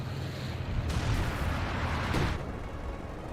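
Artillery barrage in Company of Heroes 2, a dense rumbling roar of distant shelling with a louder swelling burst in the middle, steady and noisy throughout.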